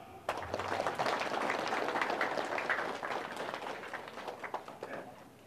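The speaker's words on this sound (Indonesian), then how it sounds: "Tepuk tangan." At a religious gathering in Indonesia, an audience gives a burst of applause that swells quickly, holds as a dense wash of clapping, then thins into scattered claps near the end.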